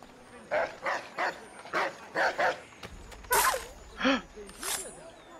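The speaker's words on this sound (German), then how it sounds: "Na, mein kleiner Hund." Dog barking in the Assassin's Creed III video game, a series of short yelping barks in quick bursts, fairly close, with a few sharper louder yips toward the end.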